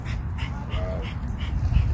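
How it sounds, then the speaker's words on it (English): A dog makes soft whimpering, whiny yips and faint pitched cries over a steady, low background rumble in an indoor setting; the sounds are moderately close and repeat irregularly across the moment. "It's like my dog. My dog don't like other dogs."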